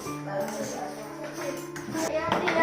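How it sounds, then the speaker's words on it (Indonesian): Primary school children clapping in a classroom, a short, scattered round of hands mixed with kids' voices and shuffling. "Tepuk tangan."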